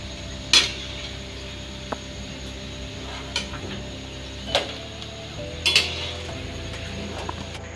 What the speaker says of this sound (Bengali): এগুলোকে আমি চিনির শিরার মধ্যে ফেলে দিব